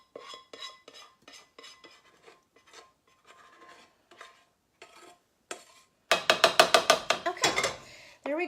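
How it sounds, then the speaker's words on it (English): A utensil stirs sauce into chicken and broccoli in a pot, giving a series of rhythmic scraping and clinking strokes. These start soft and then grow louder and faster toward the end, close by with no talking. "let me go ahead and give this a stir here and get this combined"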